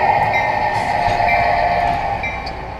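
Model train on the Allagash layout, a Maine-themed railroad led by a GP9 locomotive working a yard, giving a close, steady mechanical hum and whine with a sustained tonal ring, fading slightly toward the end.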